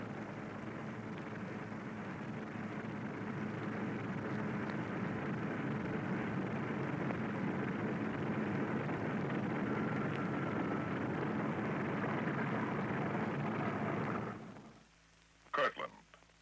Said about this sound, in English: The bomber ready. It moves off to wait its takeoff time.